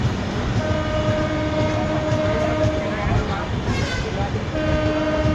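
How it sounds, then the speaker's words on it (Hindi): A Hatia–Islampur–New Delhi Magadh Express passenger train passes close by during a crossing, with a loud, steady rumble of wheels and coaches throughout and drawn-out horn tones sounding over it. "इस्लामपुर नई दिल्ली मगध एक्सप्रेस के साथ हमारी क्रॉसिंग होने वाली है, मतलब हो रही है"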